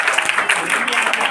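A short, lively burst of clapping for sixth- and seventh-grade schoolgirls after a dance practice, dense and close, with voices mixed in.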